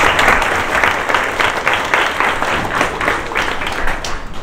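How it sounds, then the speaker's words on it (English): An audience at a junior hackathon show and tell claps loudly and steadily, a dense round of applause that fills the room and holds for several seconds with no pause or talk over it. "So a round of applause for Dem hackers"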